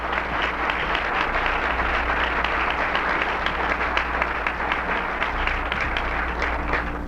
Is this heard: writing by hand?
no